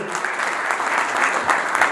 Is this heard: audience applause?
yes